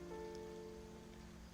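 Rain falls in a soft, steady wash under a faint tonal hum, with a sharp click at the very end and no voices.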